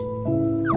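A dog whimpers briefly up close, a thin high whine rising over a steady background hum.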